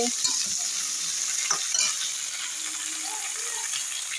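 Eggplant and potato curry sizzles and fries in a pan while a utensil stirs it, with soft scraping and bubbling textures over a steady hiss.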